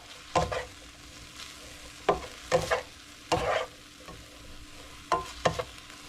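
Chicken for a spaghetti stir fry cooking in a hot pan, a soft background sizzle punctuated by several brisk bursts of stirring and scraping at irregular intervals, close up.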